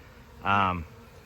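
A honeybee colony buzzes at a swarm trap hive, a dense rising drone that swells briefly and loud close by for about half a second over quieter background hum.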